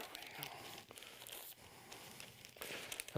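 Paper being folded by hand to make an origami Christmas card gives a close, continuous run of crisp rustles and crinkles, with no talking.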